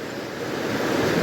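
A river flowing outdoors, a steady close broadband rush of water with some wind on the microphone, with no talk.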